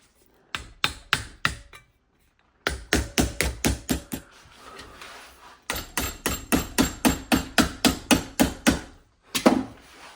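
Metal clamped in a vise is struck repeatedly with a hammer to bend it, loud rhythmic blows in several fast runs separated by short pauses.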